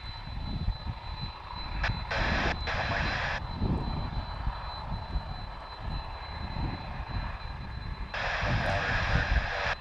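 A Boeing 767 jet at DFW airport gives a steady, moderately loud engine roar that swells again near the end, with someone talking over it throughout.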